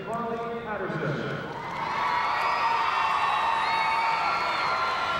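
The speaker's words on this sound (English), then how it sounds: "Getting a big reaction from the crowd" Crowd cheering and whooping for Carly Patterson's floor exercise at the 2004 Pacific Alliance Gymnastics Championships, a broad arena roar that swells and holds loud, with a commentator's voice over the start.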